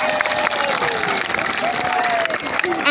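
Church congregation clapping in praise during a worship gathering, a continuous wash of applause with voices singing or calling out over it, swelling louder at the end.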